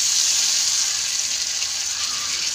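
Ginger and curry leaves sauté in hot oil in a pan, giving a steady close hiss and sizzle that carries on without a break.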